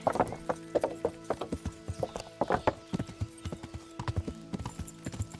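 Horse hooves clip-clop in a steady, brisk rhythm in the video game Kingdom Come Deliverance, with an occasional whinny mixed in, loud and close throughout.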